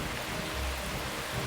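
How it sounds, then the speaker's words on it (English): Heavy city rain downpour, a dense, steady hiss of water pouring down, loud and continuous with no other sounds or voices. "a single day's downpour can splash down more than 800 million litres of rain"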